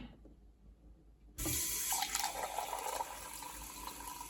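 Grohe Blue tap releasing carbonated water into a sink, a sudden loud steady gush of running water starting after a second of quiet and continuing close by without talk.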